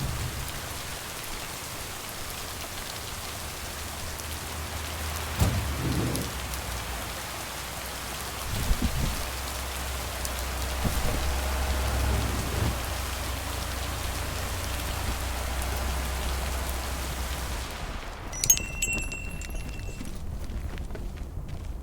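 Steady rain pours across a lakeside countryside scene in an Xbox Series S game, a dense continuous hiss with a few soft thuds and hoofbeat-like knocks, easing abruptly near the end into quieter patter with faint chimes.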